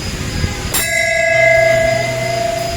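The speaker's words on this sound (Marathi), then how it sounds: "एंट्री केल्याबरोबर आपल्याला घंटा दिसतो" A metal temple bell at the Renuka Mata temple in Chandwad is struck once, loud and close, its bright tone ringing on and slowly fading over a busy background murmur.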